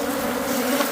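Bees buzzing around a wooden gazebo, a steady droning hum of several insects close by, continuous and fairly soft with no voices.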